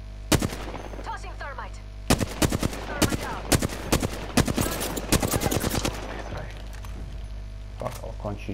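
Gunfire rattles in Apex Legends arenas, with sharp single shots and rapid automatic bursts coming close and loud in clusters, with short pauses between them, while players talk.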